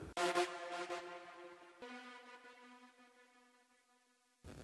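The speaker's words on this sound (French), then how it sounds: "Là, c'est un son d'Apergios, Voix AR Viral Infection 2." Nexus synth vocal preset AR Viral Infection 2, a bright sustained synthetic voice pad in an FL Studio kompa instrumental, holding harmonic tones that fade slowly before a new note enters at the end, alone without talk.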